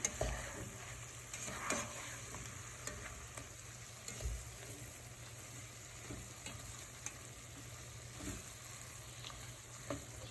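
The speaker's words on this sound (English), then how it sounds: "as the butter's melting, you see how it's getting bubbly" Green beans sizzle and fry steadily in melting, bubbling butter in a pan, with a continuous crackling hiss and occasional soft stirring clatter, close and moderately quiet, no talking.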